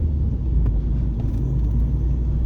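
A Ford Focus fitted with twin throttle bodies idles at its stock idle speed, giving a steady low rumble close by with no voices.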